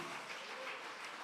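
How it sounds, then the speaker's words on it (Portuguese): A church congregation applauds, a faint, distant wash of steady clapping from many hands filling the room, with no voices clearly standing out. "aplauda Jesus"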